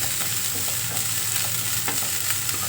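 Eggplant fries in hot oil for a sambar with avaredkalu and greens, a steady close sizzle with faint stirring scrapes throughout.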